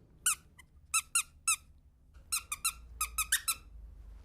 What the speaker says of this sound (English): you will always be upstaged by a squeaky sock in a leather jacket